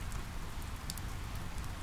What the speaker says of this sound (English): I laugh as the rain hits my body.